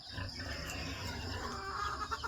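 Chickens cluck and murmur steadily amid a dense, noisy barnyard background, with no clear voices.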